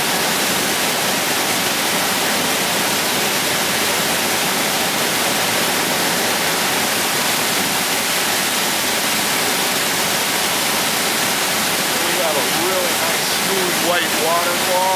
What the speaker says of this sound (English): Smooth white waterfall.